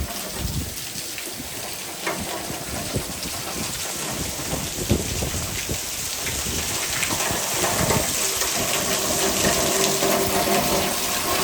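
Heavy thunderstorm rain pouring and gushing from house gutters in Frisco, Texas, during strong wind gusts, a dense continuous rushing wash that grows slightly louder over time, with no voices.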